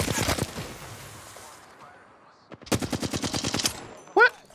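Machine gun fire in the video game Apex Legends, with a short opening burst, then a longer rapid rhythmic burst of about a dozen shots, fairly loud and close, ending in a sharp higher tone.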